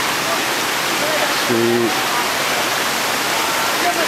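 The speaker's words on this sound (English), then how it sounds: "There's the roaring Saiyoke Yai Waterfall" Saiyoke Yai Waterfall in a Thai jungle roars as a loud, continuous broadband rush throughout, and a brief spoken word cuts in partway through.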